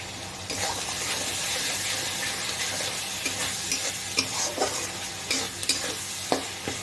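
Kasuri methi frying in a tadka masala, giving a steady close sizzle with scraping stirs and a few sharper clatters from the utensil against the pan.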